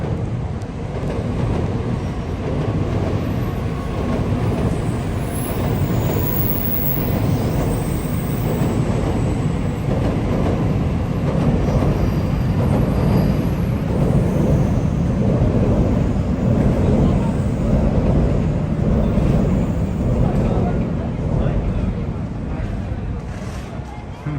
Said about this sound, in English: Oh, Shinkansen train inbound.